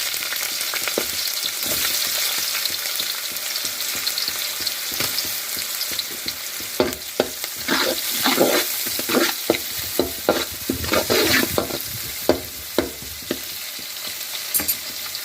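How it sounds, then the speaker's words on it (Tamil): Onion, carrot, beans and green chillies fry and sizzle steadily in hot oil, with repeated scraping and stirring clatters from a utensil in the pan, no voices. "இதையெல்லாம் லைட்டாக ஃப்ரை பண்ணி விடுவோம்."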